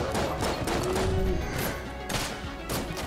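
Dense volley of bullet fire in the twin-stick shooter Enter the Gungeon, a continuous crackling barrage with sharp bursts throughout, loud and close.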